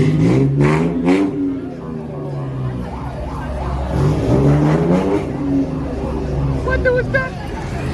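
A Ford Mustang muscle car revs at a muscle car meet, its engine rising and falling in loud, close bursts while people chatter and exclaim nearby throughout.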